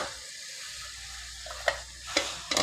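Rat meat fries in a pan with lemongrass, a close, steady sizzle with scattered scraping stirs and a few sharp clinks, and no talk.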